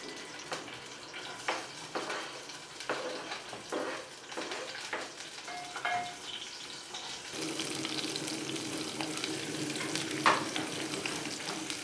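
Onions fry in oil for vegetable rice, with soft sizzling broken by repeated stirring scrapes, then a louder, steadier sizzle toward the end.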